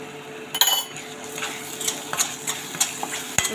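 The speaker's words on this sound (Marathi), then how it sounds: "चांगलं परतून घेऊ" Chutney masala sautés in oil in a pan for a drumstick curry, a soft sizzle under several sharp metallic scrapes and clinks of a spoon against the vessel across a few seconds.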